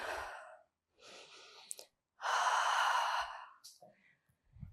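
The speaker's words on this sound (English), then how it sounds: "Breathe in and breathe out." Deep breaths in and out during a yoga-style warmup exercise, close and clear: a breathy inhale, a pause, then a long, strong exhale that trails off into quiet.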